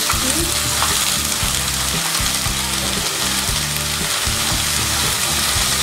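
Onion paste going into hot frying oil for egg korma, a loud, dense, continuous sizzle and crackle that holds steady throughout, close up and with no voices.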